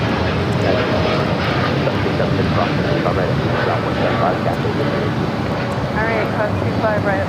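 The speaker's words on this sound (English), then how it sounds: "This is Air Canada 788 taking off to Toronto on the 787-9 Dreamliner" An Air Canada Boeing 787-9 Dreamliner takes off from LAX with a loud, continuous jet engine roar that holds steady throughout, overlaid by radio chatter and speech.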